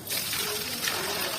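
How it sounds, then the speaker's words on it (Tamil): Water from an emptied tank gushes and splashes steadily, a continuous broadband rush that stays loud and near for the whole moment with no voices over it. "இப்போ தண்ணியை மட்டும் கொட்டிட்டு"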